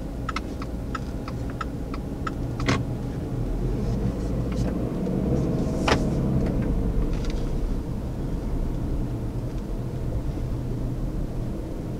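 A 2019 Subaru Outback on the road gives a steady low rumble of engine and road noise inside the cabin, with faint intermittent ticking and clicking over the top.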